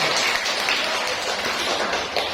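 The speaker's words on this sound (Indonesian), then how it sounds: "Tepuk tangan buat kalian semua" Children in an early-childhood classroom clap their hands together, a dense, steady patter of many small hands filling the whole moment at close range.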